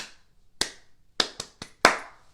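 Sharp, close hand claps ring out one at a time in a quiet room: one single clap, then a quick run of three, then a final louder clap, in a triple-meter echo pattern.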